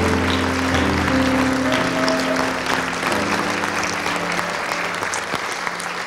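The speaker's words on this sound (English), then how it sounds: "Let's give the Lord a great big praise clap." A congregation at a church ministry service bursts into a big praise clap, steady dense applause with some sustained tonal sounds, likely organ or voices, underneath.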